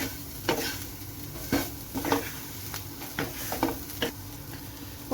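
A spoon stirring Kerala-style intestine (botti) fry with finely ground fennel in a pan: repeated scraping strokes and clinks against the pan over a steady sizzle, close and moderately loud, no speech.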